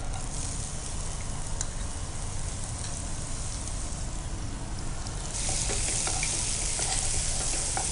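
Onions frying in hot oil in a pan while making a mutton pepper fry, a steady dense sizzle throughout that grows slightly louder and brighter toward the end, with occasional stirring scrapes and no talk.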